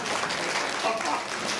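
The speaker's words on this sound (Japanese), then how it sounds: "みんな石本に拍手だ。" Crowd applause at Turtle Talk in Tokyo DisneySea, a soft, steady wash of many hands clapping from an audience, moderately loud and continuous across the short moment.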